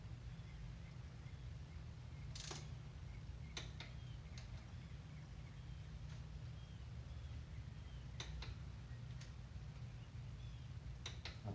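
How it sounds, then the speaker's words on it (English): Ratchet wrench torquing pinch bolts, working back and forth between them, a few faint sharp clicks spaced unevenly across the clip over a low steady background hum, no talking. "it's important to work back and forth when you're torquing these pinch bolts"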